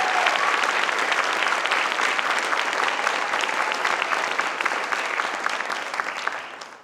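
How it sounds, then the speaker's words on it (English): An audience claps steadily for student string musicians at a school concert, a dense, sustained round of applause that tapers off slightly at the end, with no talking. "could we give them another round of applause?"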